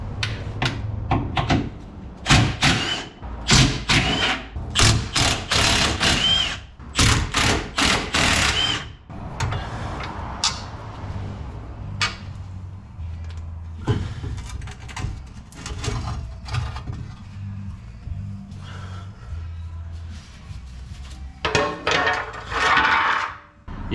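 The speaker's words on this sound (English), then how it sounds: "In order to properly support the transfer case and transmission with my jack, I'm going to remove the skid plate." Metal clanks, scrapes and tool knocks ring out in irregular bursts as the skid plate comes off the underside of a First Gen Cummins truck, with quieter rustling and handling between the sharper hits.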